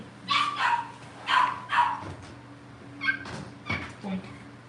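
Cavalier King Charles spaniel puppies yipping and barking in short bursts while playing indoors, several close high-pitched yaps spread across a few seconds, with a steady background hum.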